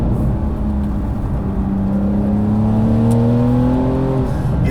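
A 2020 Porsche 992 Carrera 4S accelerates hard out of a corner on the Tail of the Dragon mountain road. The engine note climbs in pitch as it pulls through the gear, loud and close over steady road and wind noise.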